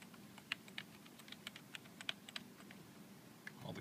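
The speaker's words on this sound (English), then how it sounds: "We'll tap across keys." Keys tapped one at a time on an Apple Bluetooth keyboard, a quiet, irregular series of light plastic clicks spaced across a few seconds, close up with no talking and a soft rustle at the end.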